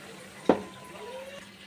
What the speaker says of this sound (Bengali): এবার জল দিয়ে দেবো, এই যে জল দিয়ে দিলাম।